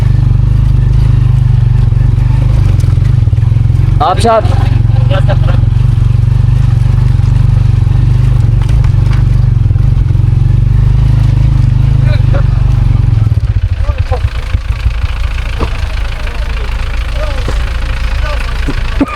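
A motorcycle rumbles along a rough, broken, rocky mountain road in a remote valley, its steady low engine drone loud and close with clattering jolts, shifting to a choppier, bumpier beat near the end as a voice talks briefly over it.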